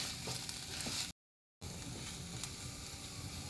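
Ginger garlic paste sautés in a pan for butter chicken, giving a loud, dense, continuous sizzle that cuts out briefly for a moment of silence before resuming just as strongly.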